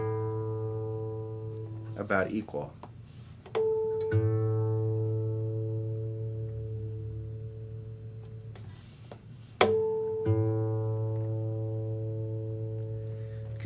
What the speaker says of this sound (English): I took the tuning fork, played the string, turn down the tuning key, the knob, and I'm turning up into the tone.